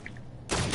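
A burst of pistol fire in a 1v1 gun game match, suddenly loud after a quieter lead-in and ringing out briefly in the second half.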